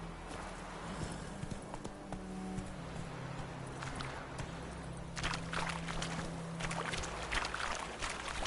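Horse hooves clip-clopping across ground in The Witcher 3 video game, a steady rhythmic gallop under game ambience with wind and scattered rustling.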